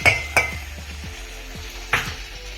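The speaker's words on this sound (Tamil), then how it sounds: "கடுகும் ஃபுல்லாக வெடிச்சிடும்" Mustard seeds popping in hot oil for a curd rice tempering, a few sharp loud pops and crackles scattered over a soft sizzle, close up with no talking.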